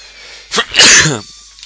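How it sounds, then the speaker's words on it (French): One loud, close sneeze with a sharp intake and explosive burst, heard alone over a quiet background while playing the SuperTuxKart racing video game. "Éternuer pendant que vous conduisez."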